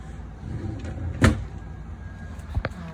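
A pots-and-pans drawer in the kitchen of a 2008 KZ Inferno is opened and shut: one sharp close knock, then a lighter second thump, amid faint room noise.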